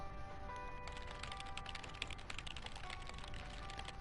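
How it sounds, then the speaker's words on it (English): Steady clicking of typing on a computer keyboard in the video game Lake, set in a city office, a continuous soft rattle of keystrokes with no voices. "Typing away in the big city."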